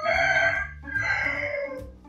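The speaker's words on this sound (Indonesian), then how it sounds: "semoga kalian tetap konsentrasi walaupun backgroundnya adalah kokok ayam" A rooster crows loudly in two long, drawn-out calls in the background of an Indonesian-language lesson, with no speech over it.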